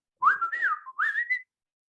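A person whistles a short family signal whistle: two clear, close, melodic phrases with rising and gliding pitch, alone in silence.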